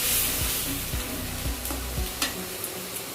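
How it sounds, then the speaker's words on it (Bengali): A spice paste of ginger, chilli, turmeric and salt sizzles in a pan while being stirred, a dense frying hiss punctuated by rhythmic low scraping strokes about every half second, close by, with no speech. "এরপর স্বাদ মতো হলুদ আর নুন দিয়ে মশলাটাকে ভালোভাবে কষে নেব।"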